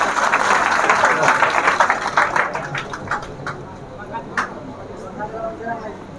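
Audience clapping at a gathering on Independence Day, a dense burst of many hands that gradually thins and fades over several seconds, with voices murmuring and talking underneath.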